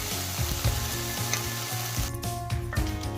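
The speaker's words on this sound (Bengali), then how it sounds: "আদা রসুন বাটাটা আমি নেড়ে নেব, যাতে ওর কাঁচা গন্ধটা চলে যায়" Ginger garlic paste stir-fried in a pan while cooking dalia, with a steady sizzle and repeated scraping strokes of a spatula close by, no talk.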